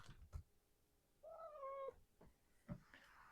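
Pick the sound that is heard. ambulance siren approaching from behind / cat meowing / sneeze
cat meowing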